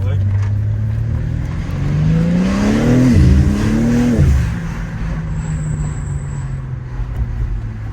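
A BMW G80 M3 is driven hard while drifting, its engine revving up in climbing surges with sharp dips and hints of tire squeal, then settling to a steady idle while voices talk nearby.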